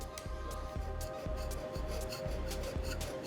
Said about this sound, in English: Scraping is a technique.